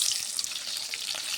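Onions frying in mustard oil in a kadai, with panch phoron spices, give a steady close sizzling hiss that runs unbroken for the whole moment, with no voices.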